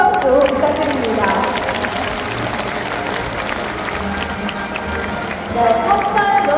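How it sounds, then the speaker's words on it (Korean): Audience applause fills a gymnasium for the winning team at a closing ceremony of a disabled sports festival, a steady dense clapping crowd throughout with an announcer's voice over it. "다시 한번 뜨거운 박수 부탁드립니다."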